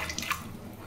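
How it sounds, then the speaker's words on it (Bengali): Two eggs rinsed under running tap water in a kitchen; a brief, soft splash and trickle that lasts under a second. "এই যে দুটো ডিম, হ্যাঁ এটাকে প্রথমে ধুয়ে নেব, ভালো করে পরিষ্কার করে ধুয়ে নিই"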